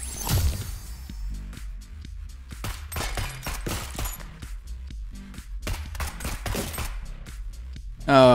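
Rapid bursts of explosions and blasts in the roguelike shooter game Neon Abyss, dense repeated cracking hits in quick succession, loud and continuous, with a brief voice near the end.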